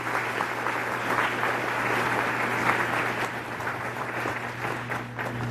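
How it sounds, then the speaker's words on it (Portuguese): A church congregation at a farewell Mass in a parish hall claps steadily in dense, sustained applause for visiting parishioners, with a constant low hum running beneath the crowd. "uma salva de palmas"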